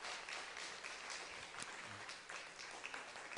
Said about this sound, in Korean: 우리 다시 한번 우리 환영의 박수 드렸으면 좋겠습니다